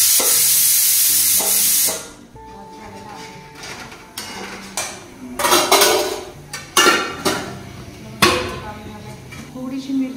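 A spoon clatters and scrapes against a pan while paneer sabji masala is mixed, producing sharp irregular metallic knocks and clinks over a low background after a brief loud hiss at the start.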